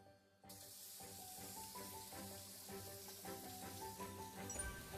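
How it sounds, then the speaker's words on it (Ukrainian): Steady sizzling of meat frying in a hot pan, a continuous crackling hiss with small pops, moderately close and unbroken throughout. "Наступним смажить м'ясо."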